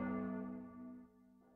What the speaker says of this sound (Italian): Vediamo se si ferma le campane e andiamo.